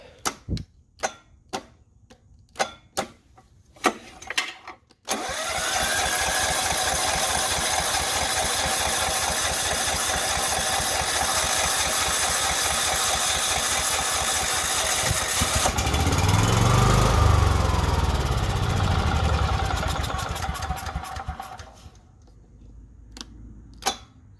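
A Ridgid 6800W generator: several clicks and rattles, then the engine catches and runs loud and steady for about seventeen seconds, surging briefly before settling, and finally winds down.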